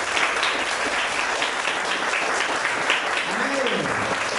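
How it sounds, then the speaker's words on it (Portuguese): A church congregation gives a dense, sustained round of applause at a moderate distance, with a voice speaking briefly over the clapping near the end. "Dê uma salva de palmas aí."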